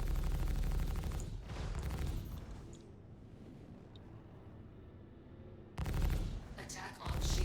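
Massive spaceship guns fire in the space combat game Star Citizen, a dense rumbling barrage that fades to a low hum before another loud burst resumes, with engine drone underneath.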